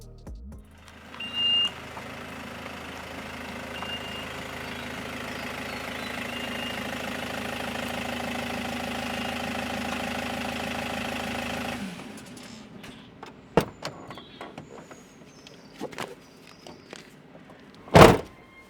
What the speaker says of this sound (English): So I'm going to move the van up there a bit